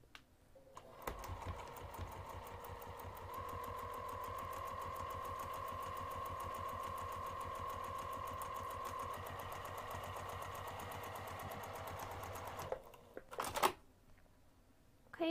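A sewing machine runs steadily for about twelve seconds while stitching a half inch seam, with a fast, even mechanical rattle close by. It stops with a few short clicks at the end.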